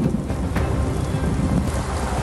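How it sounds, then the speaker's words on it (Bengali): Heavy downpour over Kolkata under dark skies, a dense steady roar of rain with no pauses, loud and close throughout, with a faint low rumble that may be distant thunder. "এভাবেই কলকাতার বিভিন্ন অংশ একেবারে বৃষ্টিতে চেয়ে যায়, মুষলধারে বৃষ্টি নামে, আকাশ কালো করে"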